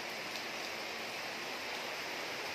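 Light rain falling steadily, a soft continuous hiss of drops with no voices, keeping an even level across the whole stretch.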